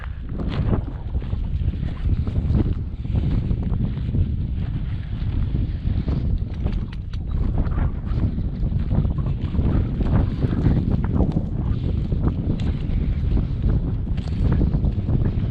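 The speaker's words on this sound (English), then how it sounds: "Yeah, definitely some wind." Strong wind buffets the microphone in a constant low roar with gusty surges, no voices.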